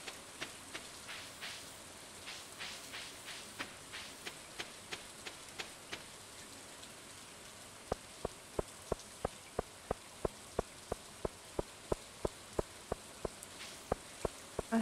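Rain patters steadily with scattered drops in the video game Stardew Valley, then a run of regular, evenly spaced ticks sounds over the soft hiss.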